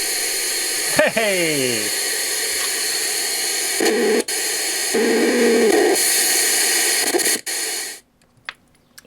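A transistor white noise generator kit gives off a loud, steady hiss with brief clicks and a sweeping squeal near the start, a few level shifts in the middle, then cuts off near the end. A voice calls out briefly.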